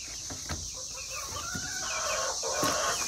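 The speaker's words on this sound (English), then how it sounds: "I'm not trying to be stuck in here with the baby chickens." Faint chickens cluck and peep in a steady, noisy background hum, several birds calling at a distance with no one speaking.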